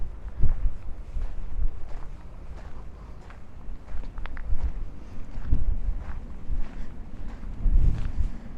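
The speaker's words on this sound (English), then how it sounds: "how windy it is here." Wind gusting across the top of Citadel Hill inside the fort, a steady low rumbling buffet with stronger surges near the start, middle and end, no voices.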